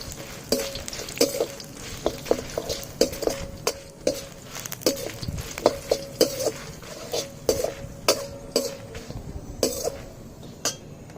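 Dry red chillies, fenugreek seeds, mustard seeds and ajwain roasting together in a dry pan, with a spatula scraping and clinking against the metal in a steady, repeated stirring rhythm, close and fairly clear.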